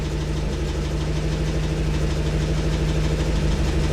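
A vehicle engine idles steadily up close, a loud continuous low rumble with a slight rhythmic knock and no pauses throughout.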